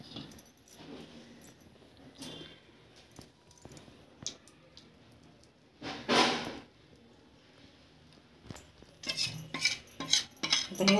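Green garlic and rice batter is poured and scraped out of a mixer jar into a vessel: quiet clinks and scrapes, then louder metallic scraping bursts near the end, with no talk.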